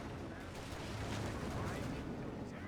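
Browning machine gun fire in Company of Heroes 2, a dense rattling burst mixed with booming battle noise, continuous and loud throughout.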